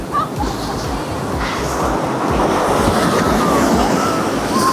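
Ocean waves at Pandawa beach in Bali roll in with a loud, steady wash of surf that swells slightly midway through.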